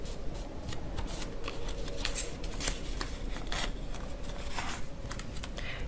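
Paper being folded into a small origami backpack gives close, soft crinkling and scraping with sharp creasing snaps scattered throughout, quiet and alone without talk.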